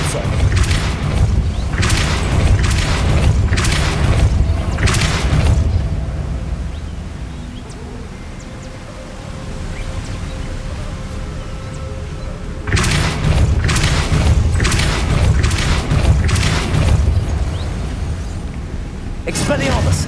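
Depulsor spell blasts in Hogwarts Legacy, several loud booming bursts in quick succession, then a lull of quieter ambience before another cluster of heavy blasts, with brief spoken incantations among them.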